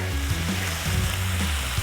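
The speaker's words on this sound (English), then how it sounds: "we sizzling real nice here" Food sizzles and crackles steadily on a hot Solo Steelfire 30 outdoor griddle, a close, continuous frying hiss with a low hum underneath.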